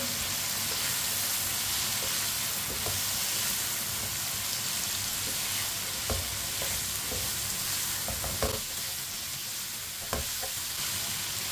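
Chopped tinda (round gourd) goes into a pan with cooked tomato and raw mango, giving a constant loud sizzle with intermittent spatula scrapes and clicks as it is mixed, heard close with no voices.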